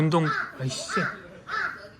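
Three harsh crow caws repeat at a steady pace, fairly close on a mountain hike, with a person's speech running underneath.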